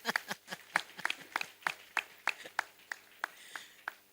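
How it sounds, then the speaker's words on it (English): Scattered audience clapping at a prison launch event for a justice program in Nairobi, sharp irregular claps from a small group, moderately near and fairly sparse. "We clap until she arrives."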